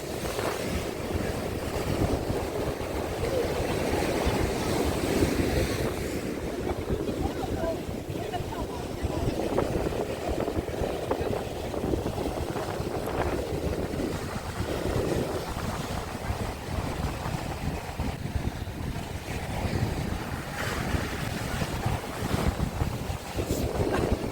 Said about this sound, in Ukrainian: Боже, яке красиве море, воно неймовірне, не дивлячись на оцей шторм.